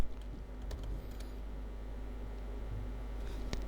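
Fingers type a command on a MacBook Air keyboard: a close, steady patter of soft key clicks with a couple of sharper taps near the end, over a low hum.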